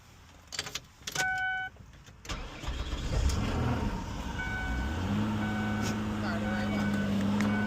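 An old car with 184,000 miles is started: a few clicks and chimes, then the starter cranks and the engine catches, settling into a steady idle hum close by, with a voice speaking briefly.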